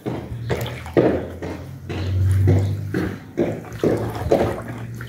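A backyard swimming pool's filter pump runs, with water churning and splashing in uneven surges and a low motor hum beneath. The sound is close and fairly loud.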